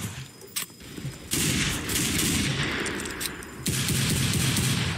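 Dense bursts of rapid gunfire from a Guycot chain carbine and other guns in the Roblox Wild West game, loud and continuous, with heavier volleys swelling in waves.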